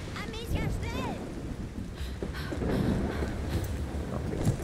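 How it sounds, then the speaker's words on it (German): A sailing boat moves across the open sea in A Plague Tale Requiem, with a steady rush of wind and water washing underneath. A voice is heard briefly near the start. "Wir segeln. Auf dem Meer."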